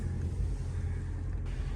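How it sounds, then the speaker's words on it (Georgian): A 2024 Toyota Prius runs after being started, giving a steady low hum close by, with faint wind noise and no voices. "კეთილი ხალხის დახმარებით დავქოქეთ ჩვენი Prius-ი"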